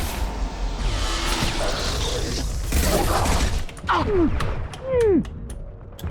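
Gunfire in Mass Effect 2 during a Collector attack on Horizon: sustained, dense battle noise with shots and whooshes, followed by sharp bursts and sweeping weapon sounds near the end.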